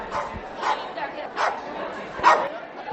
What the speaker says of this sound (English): That's him barking.